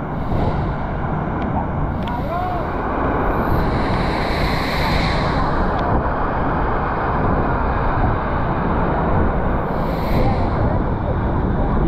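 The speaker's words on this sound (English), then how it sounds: "You can feel the wind from the falls here." Wind and rushing water roar steadily at a waterfall in Arecibo, Puerto Rico, a dense continuous wash of noise with gusty wind buffeting the microphone throughout.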